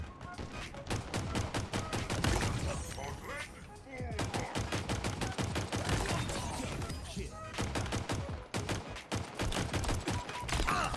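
Sidekick pistol firing in Halo Infinite, a rapid, loud stream of sharp shots in dense bursts broken by brief pauses, mixed with other gunfire and game effects.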